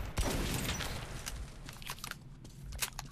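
Gunfire from the first-person shooter Metro 2033 Redux crackles in a rapid, uneven burst of sharp shots, fairly loud and close, with short gaps between volleys.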